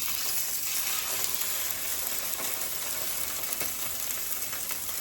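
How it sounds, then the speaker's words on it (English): Sockeye salmon sears in a hot pan with a steady, continuous sizzle that holds close and even from start to finish, with no voices. "Our pan is nice and hot. That's the sound you want when you're going to try to sear a piece of meat"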